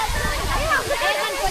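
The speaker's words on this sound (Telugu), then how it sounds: "అది కూడా వాటర్ ఫాల్స్ చూడండి ఒకసారి" A waterfall near the Marleshwar temple in Ratnagiri, Maharashtra, rushes with a steady, full splashing roar throughout, with a person talking over it.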